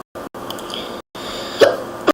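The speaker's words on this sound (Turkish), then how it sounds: "hıçkırık tuttu bu kere ben arkadaşlar" A person hiccups a couple of times, short sharp catches of breath near the microphone, over a steady background hum with brief gaps of silence.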